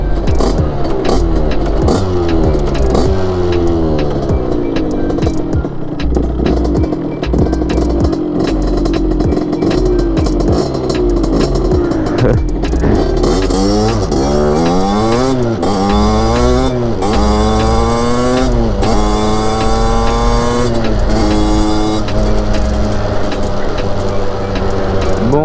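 A moped fitted with a new 72cc Airsal kit, new clutch, piston and rings idles roughly, then revs up and down repeatedly in rising and falling sweeps, close and loud.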